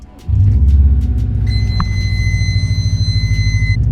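A Subaru STI with no bumpers or hood drives along, its engine a loud, steady rumble that starts abruptly and holds on with a pulsing low drone and faint high whine.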